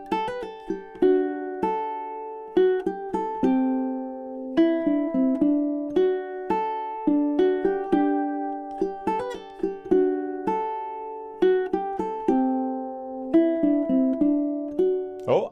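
Ukulele plays a melody, clear plucked notes over chords in a flowing rhythm, close and solo with no talking.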